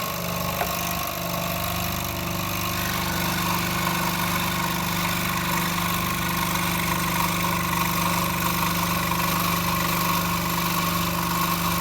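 A Proxxon scroll saw runs steadily while an air hose blows dust from the blade, giving a constant close buzzing hum with faint hiss and no talking throughout.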